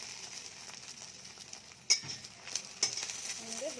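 An egg omelette fries in a pan at home: a faint sizzling bed with a few sharp metallic clicks and scrapes of a utensil, fairly quiet and close.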